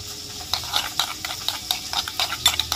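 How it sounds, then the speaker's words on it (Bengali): Thick set yogurt whisked in a bowl for a doi pabda fish dish, giving quick irregular wet clicks and soft slaps close by, with no talking. "দইটাকে প্রথমে ফেটিয়ে নেব একটু"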